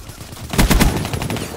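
A rapid burst of automatic gunfire in Black Ops III, loud and close, lasting about a quarter second within a short stretch of game noise.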